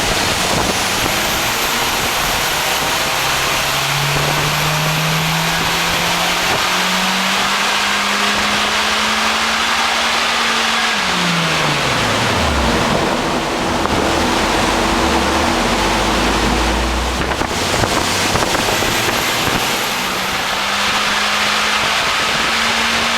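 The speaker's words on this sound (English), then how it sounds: "how quickly the wheels stop spinning when Ben finishes the end of the dyno run" On a dyno, a Mitsubishi EVO X winds up loudly, then its spinning wheels wind down to a low rumbling stop under a steady roar of rollers and fans, after which the engine climbs again, with no talking.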